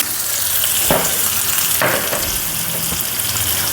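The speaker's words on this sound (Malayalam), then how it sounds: "ഇനി നമുക്കിതിലേക്ക് കുറച്ച് ഉള്ളി മൂപ്പിക്കാം കേട്ടോ" Four or five chopped onions fry in a pan for a bitter gourd fish curry, giving a loud continuous sizzle broken by two sharp scraping stirs, with softer stirring knocks toward the end.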